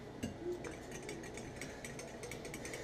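A whisk scraping and ticking rhythmically against a bowl at close range, a steady light metallic clatter that keeps going throughout with no talk.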